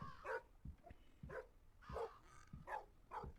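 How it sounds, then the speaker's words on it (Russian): Dog barking in the horror game Metel, several sharp barks spaced in a steady rhythm, fairly close and clear with quiet game ambience between them. "А ну-ка, собака, кусай."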